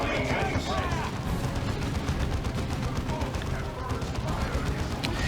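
Dense, continuous battlefield gunfire from Chaos Space Marine and Vindicare units in the strategy game Dawn of War 2, with rapid shots and bursts rattling throughout under a commentator's voice.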